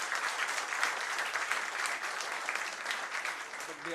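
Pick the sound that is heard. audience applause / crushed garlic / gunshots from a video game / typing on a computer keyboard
audience applause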